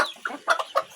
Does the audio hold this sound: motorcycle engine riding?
no